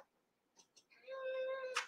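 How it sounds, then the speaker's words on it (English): A fat house cat gives one clear, drawn-out meow after a couple of soft chirps, close and distinct in an otherwise quiet room. "Oh, fat kitty."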